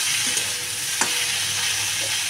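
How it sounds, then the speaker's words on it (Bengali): Okra (bhindi) frying in a pan, a steady close crackling sizzle with a few stirring scrapes and one sharp clink near the middle, no voices. "এখানে আমি ভেন্ডি ভাজা করছি"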